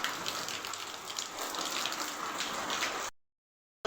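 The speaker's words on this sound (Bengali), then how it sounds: "এই যে বৃষ্টি হচ্ছে।" Steady daytime rain pours down in a continuous, fairly loud hiss for about three seconds, then cuts off abruptly into silence before briefly returning at the very end.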